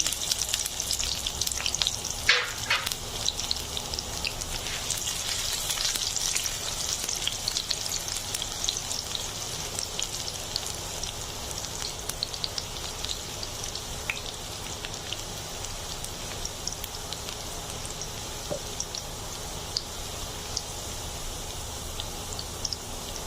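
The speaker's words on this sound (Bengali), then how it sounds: "তেলটাও গরম হয়ে গেছে এবার আমি দিয়ে দিচ্ছি রসুন কুচিগুলো" Minced garlic sizzles steadily in hot oil in a pan, a continuous crackling hiss that stays even and fairly loud for the whole stretch with no talking.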